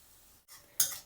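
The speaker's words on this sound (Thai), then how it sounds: "ผัดให้หมูสุกก่อนระดับหนึ่ง" Minced pork is stir-fried dry, without oil, in a pan over medium-low heat with a splash of water: a quiet rustle, then one sharp metallic scrape and clink of a spatula against the pan, brief and close.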